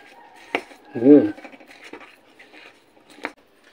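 A vegetarian dish with tomato and vinegar is stirred in a pan, producing scattered metallic clinks and scrapes of a utensil against the pan, with one louder ringing knock and quiet gaps between.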